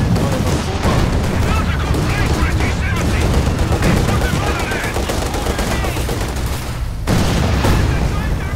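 Machine gun and mortar fire in a tank combat video game, with dense continuous gunfire crackle and booming impacts, loud and unbroken, while players talk over it.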